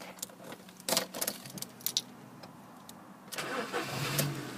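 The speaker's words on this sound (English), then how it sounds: "no problem starting the car, just start first time" Keys jangle with a few sharp clicks, then the 1.4 petrol engine of a manual Ford Focus cranks and catches first time, settling into a steady idle.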